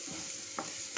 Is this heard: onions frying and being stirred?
yes